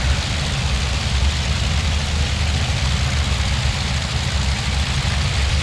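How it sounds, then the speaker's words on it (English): Steady low drone of a C-47 Skytrain's piston engines in the IL-2 flight game, a constant heavy rumble holding at one even level throughout with no voices. "Keep the engine nice and cool. Keep it purring."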